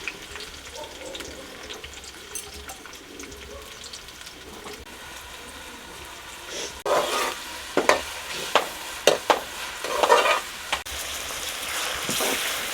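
Three finely chopped onions frying and being stirred in a pan for a Pakistani village-style chicken kaleji pota, starting as a low background then breaking into sharp, repeated stirring scrapes and sizzling bursts in the second half.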